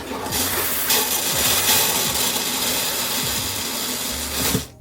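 An RV toilet being flushed during winterization, a steady loud rushing and pumping whir that holds for several seconds, then cuts off abruptly at the end.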